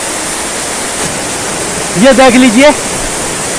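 A big waterfall on a wild hillside sends water rushing steadily downhill, a loud, even hiss throughout, with a voice briefly speaking over it midway.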